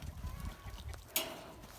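Farm chickens cluck softly and close by in a short stretch, with low murmuring clucks and one sharper, brighter note partway through.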